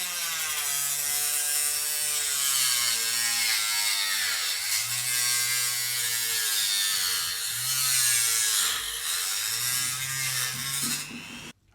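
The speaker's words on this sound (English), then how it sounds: "Let's go ahead and grab the Dremel and cut it off" A Dremel rotary tool cuts through a small white plastic piece on a Nintendo console, a steady high whine with wavering pitch running continuously and close for about eleven seconds, then stopping abruptly.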